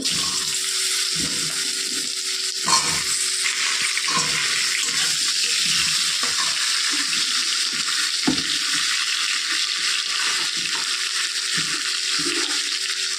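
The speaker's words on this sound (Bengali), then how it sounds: "পটলগুলো ভেজে নেব" Pieces of pointed gourd sizzle steadily in hot oil left from frying egg, a constant crackling hiss with occasional clinks and stirring sounds, close up, no talking.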